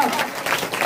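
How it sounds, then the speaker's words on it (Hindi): A church congregation at a prayer service claps loudly together: a dense, steady burst of applause with a faint voice underneath, heard only briefly. "जोरदार ताली बजाएंगे"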